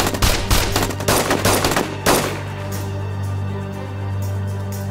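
Rapid machine gun fire rattles in dense bursts for about two seconds, then fades into a steady low hum.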